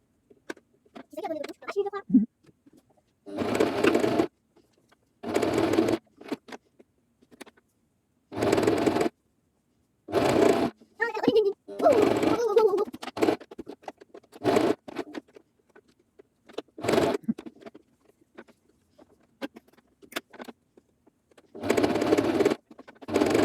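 A sewing machine stitches a baby sleeping bag in repeated short runs of a second or two, with talk filling the pauses between bursts.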